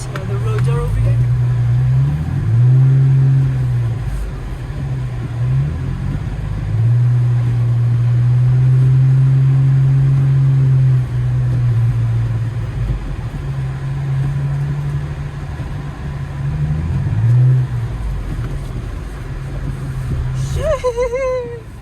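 Manual Infiniti G35 coupe driving through a snow storm, a loud steady engine drone from inside the cabin that rises and falls with gear changes, while people talk.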